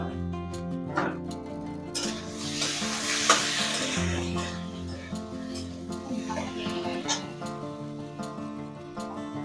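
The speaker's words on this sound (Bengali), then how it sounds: "এই মশলা একটু ভাজা ভাজা করে নিয়ে" Spices fry in a pan with a steady sizzle, broken by sharp clinks and scrapes as a utensil stirs them. It is close and moderately loud, with no talk.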